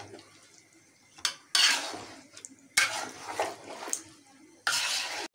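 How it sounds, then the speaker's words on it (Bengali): A spoon stirs kacchi biryani in a cooking pot, with several loud, close bursts of scraping and clattering against the metal separated by quieter pauses, heard alone. "এখন আমি খুব সুন্দরভাবে লাড়াচাড়া দিয়ে দিচ্ছি"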